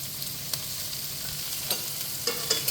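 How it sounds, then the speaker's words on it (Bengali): Carrot, onion, capsicum and cabbage stir-frying for chicken chowmein, a loud continuous sizzle punctuated by sharp scraping clicks of a spatula tossing the vegetables. "লবণ দিয়ে আমি সব সবজিগুলো ভালোভাবে ভেজে নিয়েছি।"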